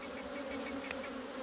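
Honey bees buzz continuously and close up during a hive inspection, a dense, steady droning hum with a few individual insects passing nearby.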